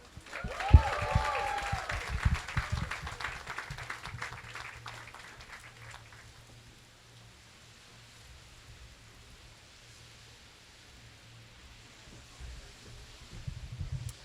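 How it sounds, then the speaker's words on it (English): Audience applause at a University of Florida (UF) ceremony: dense, even clapping from a crowd for about six seconds, then it fades into a quiet room hum with a slight rise near the end. "Can we give her another round of applause, please?"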